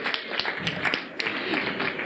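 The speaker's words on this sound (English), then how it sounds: "Give them a round of applause, please." A festival audience claps for a panel of speakers, a steady patter of many hands at moderate distance filling the short stretch without a break.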